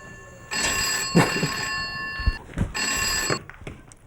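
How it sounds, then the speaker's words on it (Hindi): A telephone rings in two bursts of electronic trilling, separated by a short pause, loud and close. "नंदू, जा फोन सुन।"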